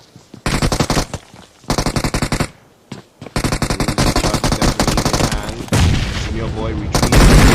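Rapid automatic gunfire from an esports video game match, loud and close, in long sustained bursts broken by short pauses, with a heavier barrage near the end.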